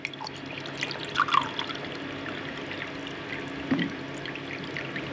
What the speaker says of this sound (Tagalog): Ang ilalagay po natin tubig ay mga 1 cup lang.